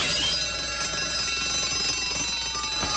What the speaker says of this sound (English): I gotta get to that phone.